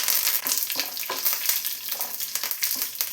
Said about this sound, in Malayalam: ഇതിലോട്ട് 3 ഉണക്കമുളക് പൊട്ടിച്ച് വെച്ചതും അല്പം വേപ്പിലയും കൂടെ ചേർത്ത് കൊടുക്കാം